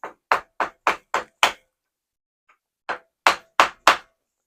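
Sharp hammer taps strike a Japanese hoop setting tool to knock a ring off, a quick run of six blows, a pause, then four more, each crisp and isolated in a quiet room.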